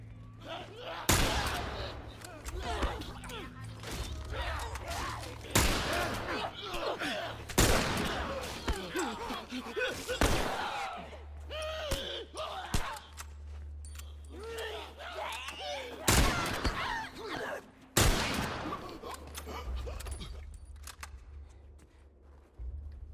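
Gunfire from The Last of Us video game: scattered loud shots and bursts ring out among game sounds and shuffling, with voices talking between the shots.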